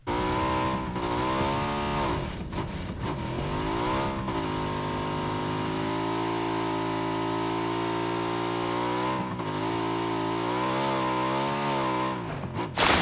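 Motorbike engine in the PUBG video game, a loud sustained droning roar that rises and falls in pitch as it revs and shifts, running close and continuous with brief dips.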